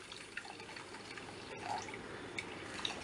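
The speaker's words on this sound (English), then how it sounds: "So I'm adding the hot water in it." Hot water is poured from a flask into a kadai, a faint, soft trickle with a few light drips heard close up in a quiet kitchen.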